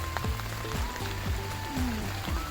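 Steady rain falls around a home stable with horses on a wet morning, a dense, constant patter of drops close by, with a few faint tonal sounds over it.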